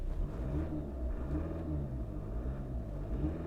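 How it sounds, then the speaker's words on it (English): A VW Tiguan diesel engine revving under the bonnet, heard from inside the cabin as a loud, steady low rumble with a rattling texture and slight rises in pitch. "I'm sure you can get the rattling noise from the diesel motor under the bonnet"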